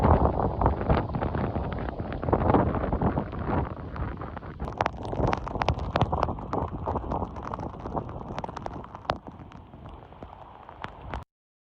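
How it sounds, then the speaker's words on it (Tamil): Hurricane Beryl's violent winds roar in a dense, continuous rush mixed with pounding heavy rain and rapid patter, loud and unbroken until it cuts off abruptly at the end. "பலத்த சூறாவளி வீசியதுடன் கனமழை பெய்ததால் பலத்த சேதத்தை ஏற்படுத்தியது."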